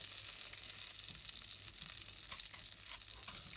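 Lentils sizzle steadily in a hot frying pan while cooking a lentil curry, a continuous crackling hiss with no voices, close and even throughout.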